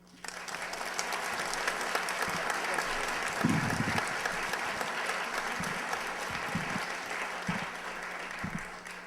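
An audience welcoming a speaker at a history museum talk bursts into sustained applause, a steady wash of many hands clapping that starts abruptly and continues throughout, with a few individual claps standing out near the end.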